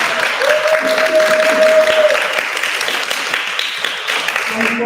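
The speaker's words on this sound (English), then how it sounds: "so can we give a round of applause?" Audience at a collaborative Pride storytelling event giving a round of applause, loud sustained clapping from a crowd with a brief held tone and some murmuring mixed in.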